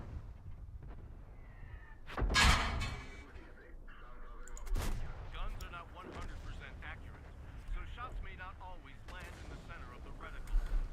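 Tank cannon firing premium rounds in a video game: one loud, booming shot with a long rumbling tail, then a second sharp blast, with a voice talking over the battle noise.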